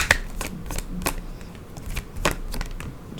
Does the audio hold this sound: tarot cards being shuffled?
yes